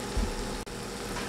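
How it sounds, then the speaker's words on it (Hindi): Urad dal vadas fry in oil, giving a soft, steady sizzle at low volume with a brief dip midway and no voices. "ये देखिए, मैंने 2 और बड़े जो हैं इसके अंदर डाल दिए हैं फ्राई करने के लिए"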